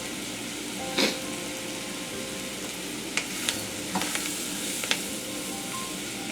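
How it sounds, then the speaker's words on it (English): Vegetables sautéing for étouffée in a pan over medium-high heat, a steady soft sizzle with a few sharp clinks of a utensil against the pan, fairly close and with no talking. "we are just going to cook the vegetables until they become soft"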